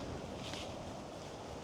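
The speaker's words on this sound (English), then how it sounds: "It's gusting a little bit now" Steady wind gusting across open autumn countryside fields under a cloudy sky, a continuous broadband rush with a brief swell early on and no voices.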